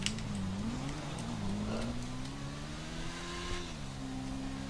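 A GTA 5 motorcycle engine idles and pulls away gently with a steady low hum that rises and wavers slightly, heard alone without talk.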